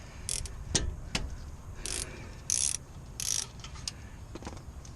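A ratchet loosening a bolt on the brakes of a 2013 Ford F150: quick bursts of rapid, close clicking come in several short rounds separated by brief pauses, with metallic tool handling in between.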